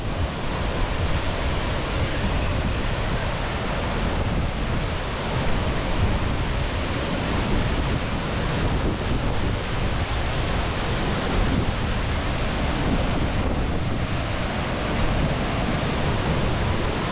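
Tiger Falls waterfall pours down in a constant, loud, roaring rush of water that stays steady and unbroken throughout, with no voices.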